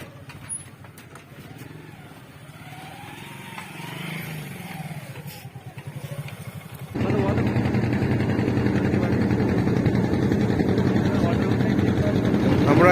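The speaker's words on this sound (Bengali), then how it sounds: "তো আমরা এখন লঞ্চে উঠছি" A river ferry launch's engine drones low and steady, quieter at first and then jumping to a loud, close rumble, with people talking over it.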